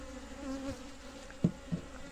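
Honey bees buzz and drone steadily close by at a hive, with a couple of soft thumps near the end.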